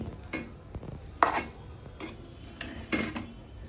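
Bhuna khichuri is turned over in a pot with a metal spoon, making a few short scraping and stirring strokes against the pot, close and moderately quiet, with no voices.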